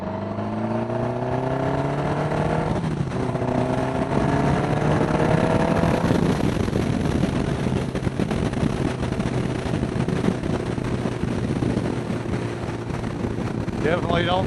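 Old Honda Gold Wing motorcycle engine accelerating hard on the road, its pitch climbing through gear changes, loud and close with steady wind rush over the microphone.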